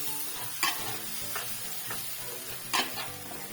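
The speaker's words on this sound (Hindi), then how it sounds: "तो अब देखिए टमाटो इसको मैं फ्राई करूँगी अच्छे से।" Ground tomato fries in a pan for Indian dal mash, giving a steady soft sizzle broken by a few sharp stirring clinks and scrapes.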